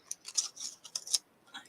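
Scissors fussy-cut paper pieces for a handmade card in a series of quick, crisp snips close by, several short bursts within less than two seconds.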